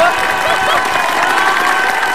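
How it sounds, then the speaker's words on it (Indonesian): A large television studio audience applauds loudly and steadily, a dense wash of clapping with some cheering mixed in, sustained throughout. "Tepuk tangan untuk Ajeng dong."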